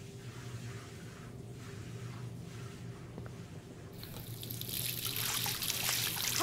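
Running water in the game Life is Strange trickles faintly over a low background hum, then swells into a louder, steady gushing flow for the last couple of seconds.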